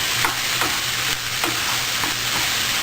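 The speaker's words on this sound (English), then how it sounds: "so we break up all the hamburger. You just stir it in here." Ground beef hamburger fries in a pan under a constant close sizzle, broken up by a regular run of spatula stirs and scrapes. Nobody talks.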